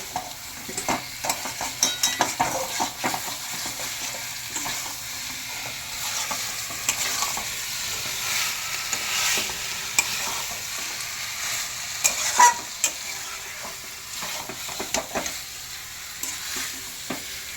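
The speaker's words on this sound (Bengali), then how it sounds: "এঁচোড় দিয়ে আমি ভালো করে কষিয়ে নেব।" Young jackfruit is stir-fried in spice masala for a vegetarian kalia, a steady close sizzle with repeated scraping and tapping as it is stirred in the pan; nobody speaks.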